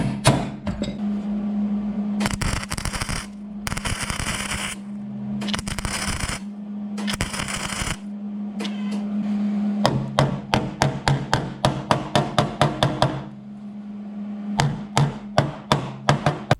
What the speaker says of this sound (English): Now we're going to do another plug weld.